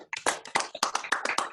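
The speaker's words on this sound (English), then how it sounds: "clap in the normal traditional way that we show appreciation for our excellent speaker" A few people clap over a Zoom call for a Rotary Club of London speaker, sharp, separate claps, roughly eight in quick, uneven succession, close to the microphone and with no talking.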